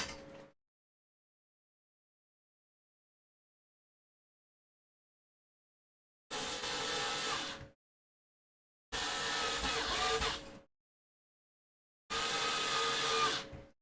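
Electric screwdriver driving screws while a small ITX gaming PC is built, three loud whirring bursts of roughly a second or two each, separated by silent pauses, with no voices.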